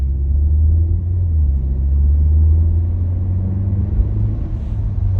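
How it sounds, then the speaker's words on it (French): A Skoda Octavia sedan with a 150 hp engine and seven-speed DSG gearbox accelerates, giving a steady, loud, low engine rumble from inside the car with no talking. "Moi je vais me faire ma petite accélération, écoutez bien."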